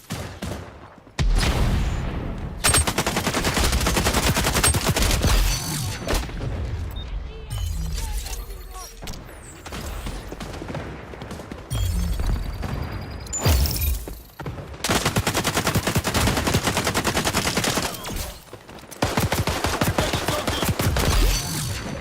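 Rapid automatic gunfire rattles through a round of the video game XDefiant in long, loud bursts broken by short pauses, with scattered shots and mechanical clicks between volleys.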